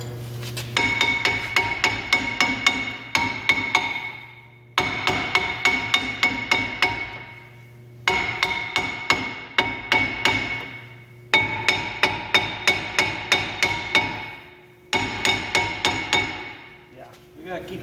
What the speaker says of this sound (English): hammering this sucker until it comes out